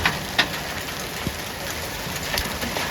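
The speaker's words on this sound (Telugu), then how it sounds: "ఇక్కడ వర్షం అది కూడా అక్కడ రేకుల మీద పడి ఎట్లా చింది కిందకి పడుతున్నాయో చూడండి" Rain and hailstones falling on metal roof sheets during a hailstorm, a steady broadband hiss with occasional sharper ticks and clinks of impacts, moderately loud and continuous, with no talk.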